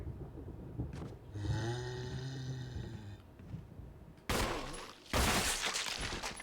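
Gunshots in the Resident Evil video game, two loud sharp bursts near the end following a low droning hum, fairly faint overall.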